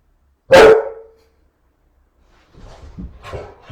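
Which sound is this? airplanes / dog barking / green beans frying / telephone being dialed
dog barking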